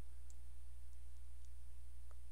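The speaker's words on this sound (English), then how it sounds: "I'll hold down the shift key and click on the corner" A few faint, sharp computer mouse clicks land sparsely over a quiet, steady background hum, spaced irregularly about half a second apart.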